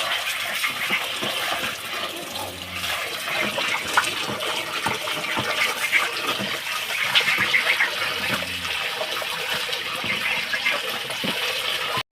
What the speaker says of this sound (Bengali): এখন আমরা এই যে হাঁস পরিষ্কার করে নিতেছি ধুয়ে।